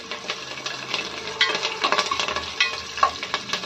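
Curry leaves fry in hot oil in a pan, giving a steady close sizzle with scattered crackles and pops, mixed with the scrape of stirring.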